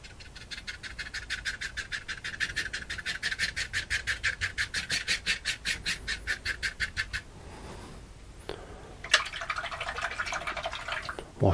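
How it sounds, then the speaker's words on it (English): A paint brush is swished and rubbed in a water pot during acrylic painting, making a long run of even rhythmic scrubbing strokes, then a pause and a brief wetter splashy rub near the end. "Washing the brush."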